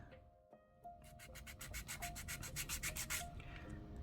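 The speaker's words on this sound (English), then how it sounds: "I'm going to activate and file everything smooth." A nail file rubs quickly back and forth over dip-powder nails with black glitter, making faint, close, rhythmic scratchy strokes in a steady series. No one talks.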